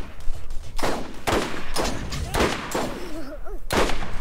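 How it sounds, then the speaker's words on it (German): Enemy gunfire in the video game Borderlands, loud repeated shots in rapid bursts with some booming blasts and whooshing effects, continuing throughout. "Da schießen welche auf uns."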